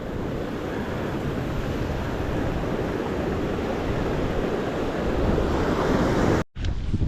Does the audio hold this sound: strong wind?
yes